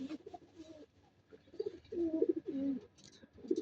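Mishori pigeons coo nearby in a run of soft, throaty calls that come in short bursts, with no one talking.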